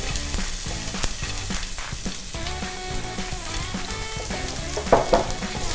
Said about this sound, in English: Make sure your pan is hot before you add in the onions.